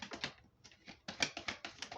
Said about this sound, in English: Let's get one more card, last shuffle.